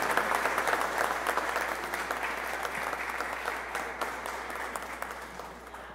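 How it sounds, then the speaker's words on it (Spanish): Loud, sustained applause from a large gathering welcomes a newly installed archbishop, the dense clapping steady throughout and slowly easing toward the end. "De nuevo invito a ustedes de hacer un aplauso fuerte para él"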